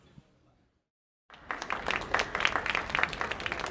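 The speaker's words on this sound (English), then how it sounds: "you don't have to clap" An audience breaks into applause at a Rosewater interview event with Maziar Bahari, Gael Garcia Bernal and Jason Jones. After a brief quiet gap, dense steady clapping starts and carries on loudly to the end.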